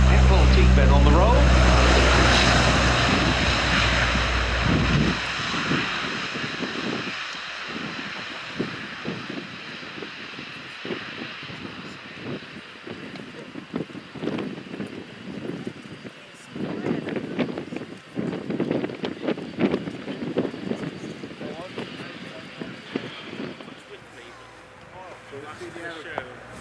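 A French Navy Breguet Atlantique 2 twin-turboprop patrol aircraft accelerates down the runway on its takeoff roll at an airshow. Its engine roar starts loud and close, then thins into a gusty, wind-buffeted drone as it pulls away.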